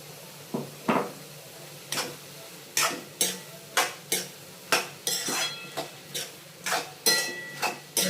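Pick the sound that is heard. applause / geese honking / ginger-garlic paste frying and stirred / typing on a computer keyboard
ginger-garlic paste frying and stirred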